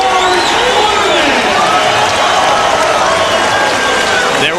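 A big boxing arena crowd applauds and cheers after the George Foreman vs Lou Savarese fight, a dense roar of clapping and shouts under an announcer's voice.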